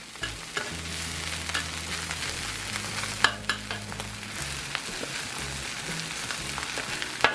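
Bacon, egg and rice fry and sizzle in a Weber wok, with steady broadband crackle and scraping stirs from a spatula and a low hum underneath, no voices.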